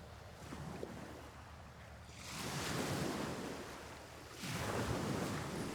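Ocean waves break on the shore in two rising surges, each a broad hissing wash of surf that swells and lingers, with quieter lulls between them and no voices.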